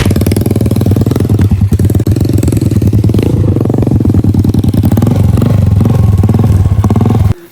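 Motorcycles labor up a steep road without any load, engines loud and close, a steady rough drone with rattling and clatter lasting several seconds before they cut off abruptly.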